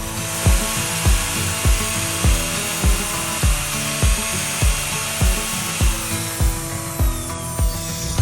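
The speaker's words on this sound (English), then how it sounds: "going to take care of the drilling" Drill boring into timber while a timber-frame sawmill bunk is built: a loud, steady whine throughout, with regular low thuds about every half second, close by and without talking.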